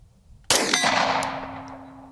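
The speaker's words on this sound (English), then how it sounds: "let's hear what a gunshot sounds like" A single sharp, loud 9mm pistol shot cracks outdoors after a brief quiet, followed by a ringing metallic tail that slowly fades.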